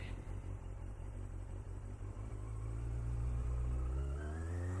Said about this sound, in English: A lot of cars today.